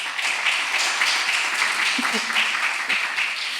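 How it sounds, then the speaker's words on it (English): Community arts event audience applauding supporters of area artists: steady, moderately loud clapping from a gathered crowd throughout, with a brief voice in the middle. "let's give them a round of applause"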